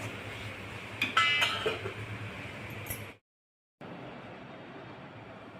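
A lid goes onto a cooking pot of rava and sweet corn upma, giving a quick cluster of close metallic clinks and clatters over a low kitchen hum, followed by an abrupt moment of silence.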